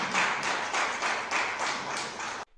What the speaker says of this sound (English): There was like two people clapping